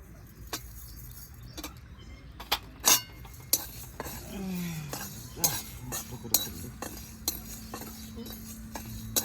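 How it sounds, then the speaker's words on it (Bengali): Coriander, dried chillies and cumin dry-roasted in a pan, heard as scattered light clinks and scrapes of a utensil stirring against metal, with a faint sizzle in a quiet kitchen. "আর এটাতে শুকনো খোলায় সব মশলা ভেজে নেব"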